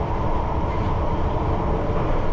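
London Underground train running along the track uphill toward Manor House, a steady loud broadband rumble and roar from inside the car, continuous and unbroken with no talk.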